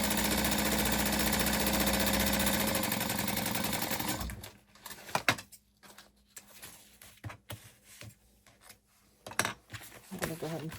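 A sewing machine running a quarter-inch seam at 4.5 stitch length on a crossbody bag, one steady whirring burst for about four seconds, followed by scattered handling taps and rustles.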